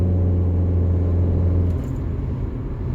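A Rover 45 car with a CVT transmission drives along, its engine a steady low droning rumble that eases slightly partway through, heard from inside the cabin without speech.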